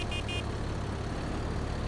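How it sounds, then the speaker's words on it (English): Two short, close horn honks in Farming Simulator at the start over a loud steady engine rumble, then only the continuous motor drone. "I can honk back at you."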